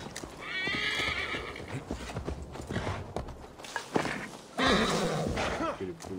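A horse in Assassin's Creed Valhalla neighs and whinnies with hoofbeats clip-clopping beneath, loud and close, while someone talks excitedly over the game sounds.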